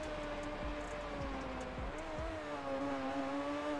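A Yamaha XJ6 motorcycle engine in the MX Bikes game holds a high, steady buzzing drone in fourth gear, its pitch rising gradually with a few brief throttle blips near the start, loud and continuous.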